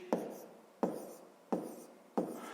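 Pen or pencil strokes set down the first step of a math solution, four quiet, evenly spaced taps and scratches with no talk.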